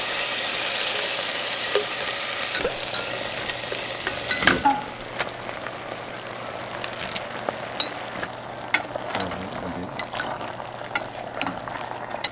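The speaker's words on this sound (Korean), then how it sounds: "이 핏기가 없어질 때까지 충분히 볶은 다음에 끓이거든요." Meat stir-fried in a pot as the base for a rock seaweed soup: a loud, dense sizzle in the first few seconds, then softer frying with scattered scrapes and clinks of a utensil stirring against the pot.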